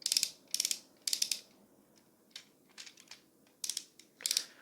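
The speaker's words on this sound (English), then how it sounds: "do you hear these ratchets?" Ratcheting joints of a Mastermind Creations Optus Pexus toy figure, several short bursts of crisp plastic clicking, each a quick rattle of detents, close and isolated with quiet gaps between.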